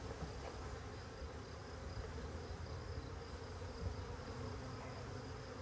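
Package honey bees being dumped into a new hive give a continuous, soft droning buzz, a steady faint swarm hum with no talk over it.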